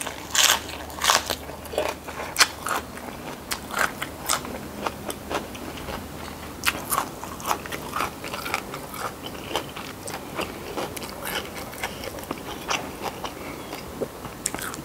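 Crunchy chewing of whole seafood eaten shell, whiskers and all, alongside a Thai meal of chili rice, boiled chicken and stir-fried vegetables; close, repeated crackling bites and crunches in an irregular rhythm, with no talking.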